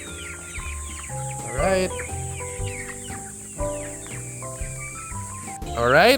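Farm chickens cluck and squawk close by over their morning feed, with repeated bursts of clucking and a few louder cackles, while someone briefly speaks.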